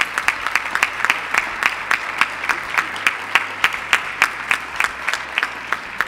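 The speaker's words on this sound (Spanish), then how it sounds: "os pido un aplauso para ellos" An audience at the poster presentation for the 2018 Moros y Cristianos festival applauds the actors, dense clapping with sharper individual claps standing out in a fairly regular pattern, sustained without voices.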